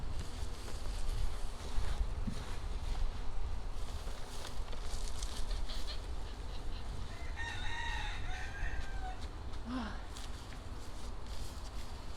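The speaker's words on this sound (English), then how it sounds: "You can hear the chickens." Chickens on a Florida homestead, with a rooster crowing a couple of times partway through and scattered clucks, moderately distant, over steady outdoor wind and background noise.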